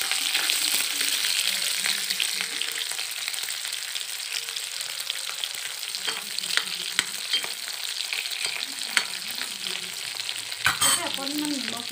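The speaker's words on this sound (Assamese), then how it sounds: "এতিয়া আমি প্ৰথম মাছকেইপিচ ভাজি লওঁ।" Dried smoked fish pieces fry in a little oil in a wok, giving a steady, close sizzle throughout with occasional stirring scrapes and no talking.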